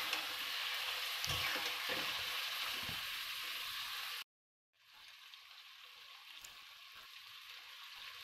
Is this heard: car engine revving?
no